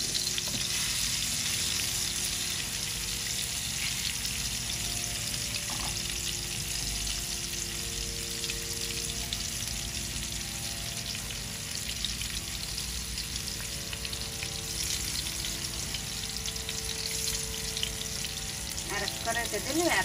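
Hilsa fish frying in hot oil in a home kitchen pan, a loud continuous sizzle with stirring scrapes running throughout, with faint voices in the background.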